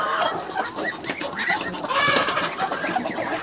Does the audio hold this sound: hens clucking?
yes